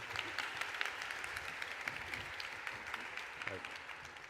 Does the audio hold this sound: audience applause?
yes